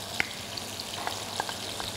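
Onion frying in melted butter, a quiet steady sizzle with a few faint pops and light stirring clicks over two seconds, no one speaking.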